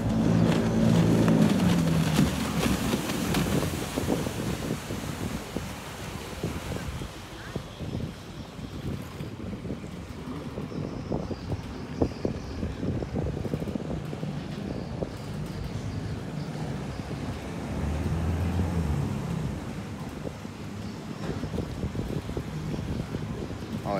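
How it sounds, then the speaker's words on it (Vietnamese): A boat powered by a 65 hp Mitsubishi 4D56 diesel engine runs steadily in a Lunar New Year boat parade in Phong Điền, its low drone continuous under wind noise and passing water sounds. "Máy động cơ này 65 ngựa nè,"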